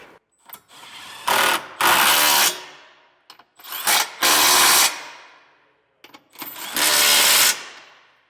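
A power tool with a socket drives bolts on a Class III trailer hitch being installed on a 2025 Acura MDX, heard as three close, loud bursts of whirring and rattling impacts with short gaps between.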